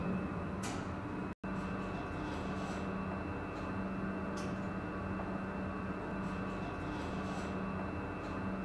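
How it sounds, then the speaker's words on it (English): Lift inside a Roblox game rising with a continuous low mechanical rumble, steady and close throughout, broken only by one very short cut near the start. "This lift is going up."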